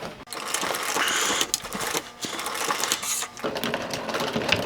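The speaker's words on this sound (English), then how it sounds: "that's as far as I'm going to sew in because of my zipper, so I lock the thread" A sewing machine stitches camper upholstery fabric in a steady rapid whir, pausing briefly a couple of times before running on, close up and without talking.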